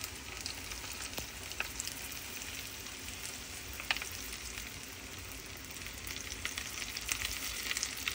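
Chilies frying in hot oil for homemade chili oil, giving a steady, dense crackling sizzle with scattered pops, close and even throughout with no voices.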